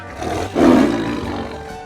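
A baby tiger lets out a single loud, rough roar that swells quickly and fades, heard alone and close.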